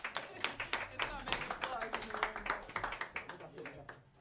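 An audience claps at aja monet's live poetry show in Rotterdam. Quick, evenly spaced claps carry steadily for about four seconds while voices speak over them.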